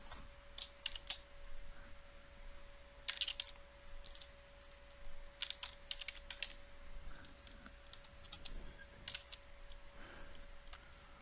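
Rapid bursts of quiet keyboard typing, clicks coming in quick clusters with short pauses, over a faint steady electrical hum.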